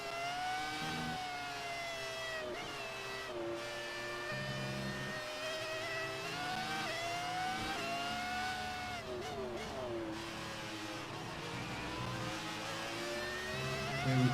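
The engine of a Formula 1 race car in a video game whines and rises in pitch through the gears, loud and continuous, with layered engine tones and no talk.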